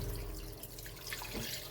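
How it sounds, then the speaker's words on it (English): Rainwater splashes into a cooking pan for Lebanese okra chicken, a short, steady pour that fills the moment with close, continuous watery hiss. "over here we throw in a bit of water"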